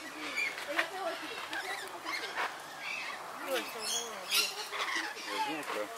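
Bird squawking at a feeder in Guadeloupe, repeated harsh calls scattered through the clip, fairly close, with other chirps and background voices around.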